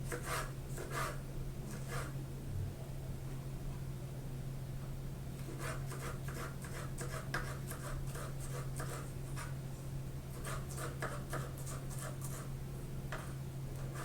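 A knife cuts a mango into small pieces for pico de gallo, making soft, close slicing and scraping strokes that come in short bursts over a steady low hum.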